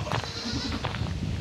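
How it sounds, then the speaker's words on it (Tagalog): Several goats bleat over a busy murmur of livestock, short overlapping calls close by. "So ayan yung mga alaga nating kambing"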